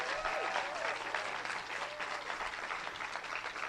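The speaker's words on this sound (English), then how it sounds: "that's worth another clap" A crowd at a political rally in Orangeburg, South Carolina bursts into applause, a continuous roomy clatter of clapping heard from a distance at fairly low level, with faint whistles or cheers riding on top.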